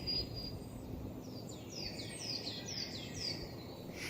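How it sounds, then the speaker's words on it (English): Birds sing in a spring forest in the Jungfrau region of Switzerland, a series of bright repeated descending whistled phrases at moderate distance over a steady rushing background. "listening to the birds in the forest"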